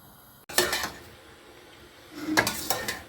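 Two short bursts of clattering as a utensil scrapes and knocks inside a pot of mushrooms being stirred, separated by a quiet pause.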